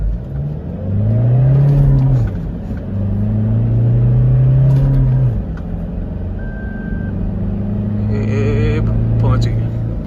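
A 2024 Toyota Fortuner with a manual gearbox launches from 2000 RPM in eco mode with traction control off, its engine droning loudly and rising in pitch through several gear changes, with a brief beep partway through and someone speaking over it.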